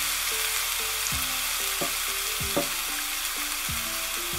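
Two large chopped onions fry in hot oil, giving a loud, continuous close-up sizzle with a dense hiss throughout and faint tonal music underneath.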